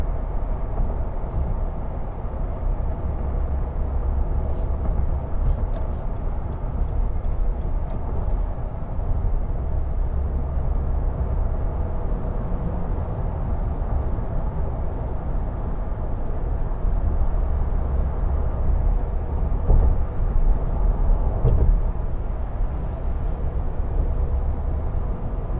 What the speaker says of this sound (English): I'm just going to be quiet for 30 seconds so you can hear how loud or quiet the Frontier is when driving on the highway